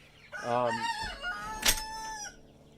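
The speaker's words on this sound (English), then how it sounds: "they're getting introduced to the new chickens right now" A rooster crows loudly and close by, a rising then falling call with a sharp squawk in the middle, over faint background noise.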